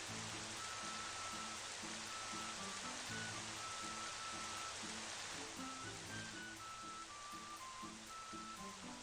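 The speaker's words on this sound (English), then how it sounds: "Oh no, it is pouring rain." Heavy pouring rain makes a dense, unbroken hiss for the whole stretch, steady and enveloping, with soft rhythmic musical tones faintly underneath.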